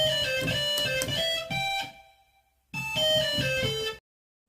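Ford car chime sample run through distortion and a lead amp setting so it rings like an electric guitar: sustained harmonic tones in two phrases with a short gap between them, then an abrupt stop.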